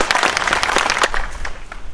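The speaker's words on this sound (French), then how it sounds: "Je voudrais qu'on les applaudisse." Crowd applause at a civic rally, a dense burst of many hands clapping loudly and continuously, slightly thinning toward the end.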